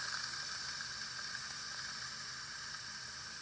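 Steady, continuous hiss of steam venting from a pressure cooker during a pressure release, loud and broadband, holding even for the full stretch with no talk.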